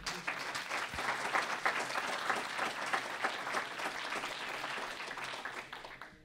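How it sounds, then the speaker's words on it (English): A conference audience claps for the first presenter at a Wikimania 2012 session, sustained even applause from a roomful of people with no speech on top. "let's give our first presenter a round of applause"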